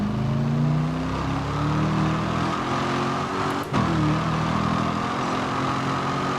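Race car engine in Grid Autosport, a loud continuous roar with rising revs and a brief dip from a gear shift midway before pulling hard again, heard alone without talk.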